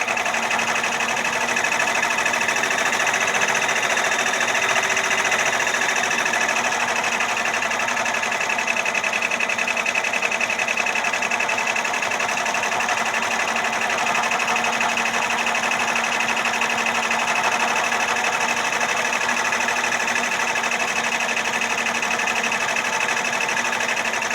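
Embroidery machine sewing satin stitches for an appliqué name on a bodysuit, a steady fast whirring hum that runs unbroken and evenly loud for the whole stretch, with no voices.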